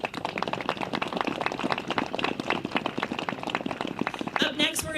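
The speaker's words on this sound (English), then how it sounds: "Give them a round of applause." An outdoor crowd at the West Virginia Capitol Christmas tree lighting applauds, a dense patter of many hands clapping steadily throughout, with a voice briefly heard near the end.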